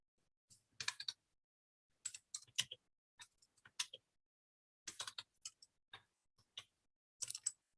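Short bursts of computer keyboard typing, quiet and close, come in clustered clicks separated by silent pauses, with no talk.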